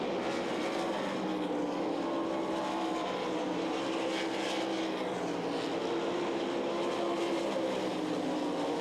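Several 360 sprint cars race side by side at Knoxville Raceway during the Knoxville Nationals, a steady, fairly distant roar of engines that holds without pause and with no voices over it.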